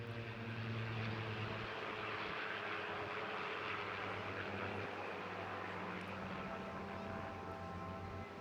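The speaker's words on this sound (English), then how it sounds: "running in now, this beautiful pairs formation team from Rolls-Royce, the Mark 19 Spitfire and the P-51 Mustang" Mark 19 Spitfire and P-51 Mustang flying in pairs formation at a seaside air festival, a faint distant piston-engine drone with steady harmonic hum throughout.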